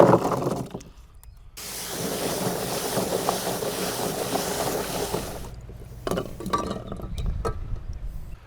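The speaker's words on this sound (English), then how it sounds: "I'm going to wash these out now" Freshly harvested water chestnuts being washed in water, a few seconds of continuous sloshing and splashing close by, with rattling knocks and handling noises toward the end.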